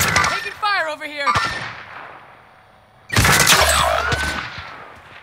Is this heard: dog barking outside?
no